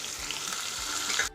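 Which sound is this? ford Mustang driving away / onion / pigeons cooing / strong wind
onion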